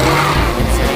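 Go-karts racing around a track, a loud continuous engine roar with tire noise, close and steady over one second with no talk.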